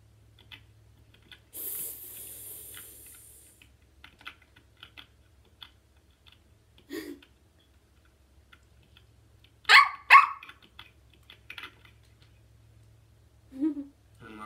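A Minecraft parrot imitates a dog, giving a few short, separate bark-like yelps between quiet gaps, with light clicking and faint background noise underneath.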